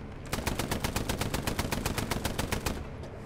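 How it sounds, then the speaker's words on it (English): Hell Let Loose machine gun fire: a loud, steady burst of rapid rounds in an even rhythm that lasts nearly three seconds, with no talking. "Machine gun him."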